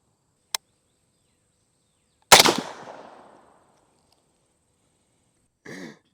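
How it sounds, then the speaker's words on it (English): A single M1 Garand rifle fires on an outdoor range: one loud, sharp report with a decaying echo, framed by a faint click before it and a brief noise afterward. "I'm shooting at the left target now."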